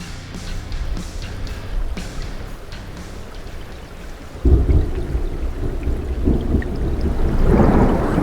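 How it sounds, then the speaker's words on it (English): A low rumble of video game thunder swells midway and keeps rolling, with a faint rain-like hiss underneath and no talking. "Thunder, like you've seen it a million times."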